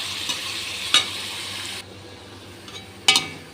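Shrimp browning with garlic and ginger in a pan give a steady, close frying hiss broken by two sharp clicks of stirring, and the sizzle drops noticeably softer partway through.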